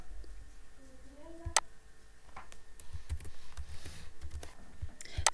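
Computer keyboard keys clicking while working in Microsoft Excel, a few sparse, close taps and clicks over quiet room tone.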